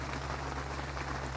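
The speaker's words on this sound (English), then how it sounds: "the rain has kicked off again, as you can probably hear" Steady rain pattering outdoors at Todber Manor's Big Hayes carp lake on a cold autumn morning, a continuous dense hiss with constant low rumble, no voices.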